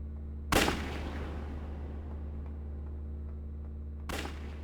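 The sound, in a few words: gunshot to a parasitized man's head in the video game Operator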